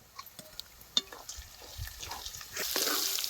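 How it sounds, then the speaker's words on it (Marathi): Raw peanuts are sautéed with onions in a pan while making bajra bhakri tukde, giving a soft sizzle broken by scattered stirring clicks and scrapes, and the frying swells louder near the end; no one speaks. "आता आपल्याला ह्याच्या कांद्यामध्ये हे शेंगदाणे टाकून परतून घ्यायचे"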